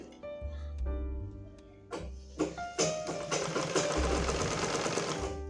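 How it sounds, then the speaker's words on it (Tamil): A newly repaired sewing machine runs freely in short bursts and then a longer stretch, its rapid mechanical stitching rattle close and loud, with brief pauses between runs. "ஃப்ரீயாக தைக்குது"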